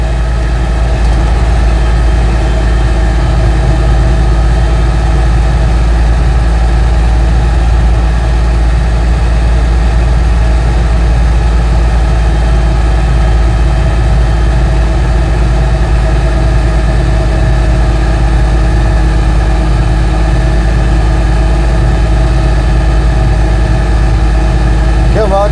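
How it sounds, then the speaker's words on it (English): An Invacar invalid carriage with a roughly 20 brake horsepower engine labours up a mountain road near Aberystwyth, giving a steady, loud, droning engine note that holds without a break throughout. "Begin a bit of a climb. Hard work with 20 brake horsepower"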